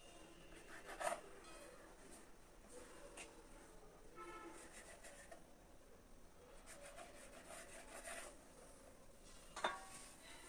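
Paratha dough is rolled out on a floured board, soft repeated rubbing and rolling strokes with a few sharper knocks, fairly quiet and close with low background hum.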